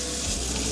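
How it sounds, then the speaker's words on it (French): A brief, steady rush of tap water runs in a kitchen sink as potatoes are rinsed, a close, even splashing hiss. "j'ai bien lavé les pommes de terre dans l'évier"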